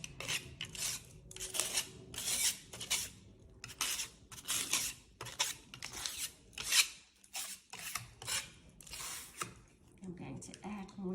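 A mix of paint and plaster of Paris is scraped over a picture frame in repeated rasping strokes, close and irregular, with a voice speaking between them.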